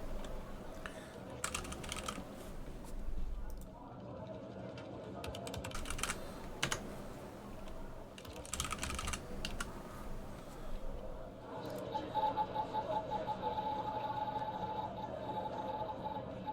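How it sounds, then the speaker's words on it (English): Rapid clattering keystrokes on a computer keyboard in the video game The Operator come in several bursts, close and fairly quiet, with a faint electronic hum later on. "You just type randomly on the keyboard and the right login details appear."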